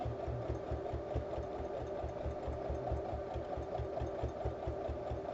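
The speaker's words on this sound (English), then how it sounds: "And so then we're just stitching right along here." A sewing machine stitching a fabric bowl cozy, its fast rhythmic needle chatter and motor hum running steadily and close throughout, fairly quiet overall.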